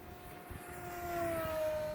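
Sky Angel RC Rare Bear model airplane on a 3S battery flies over a field in a crosswind, its electric motor whining at a steady pitch that rises slightly and grows louder as it passes, with no talking.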